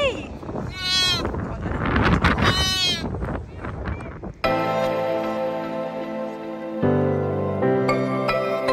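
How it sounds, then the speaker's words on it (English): A flock of sheep bleats in repeated calls while a person talks nearby; the bleating then gives way to other steady sounds. "the sheep are going to stop because I'm going to be frightening them"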